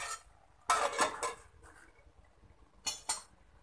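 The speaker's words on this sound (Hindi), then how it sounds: "हल्का सा साइडों पे पानी डाल के मैं इसको कवर लगा दूँगी इस तरह से" A metal lid goes onto a cooking pot of masala-stuffed tinda: one sharp clattering clank, then a quieter pair of clinks later, with near silence between.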